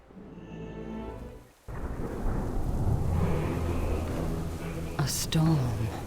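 Thunderstorm in World of Warcraft: a low rolling rumble with rain hiss that cuts out briefly, then returns as a heavy, sustained roar of thunder and downpour, with a few brighter cracks near the end.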